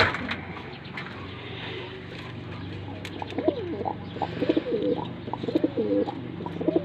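Silver Shadow Van Loon pigeons coo in a breeder cage, soft repeated throaty calls rising over a steady low background hum, growing more frequent toward the end.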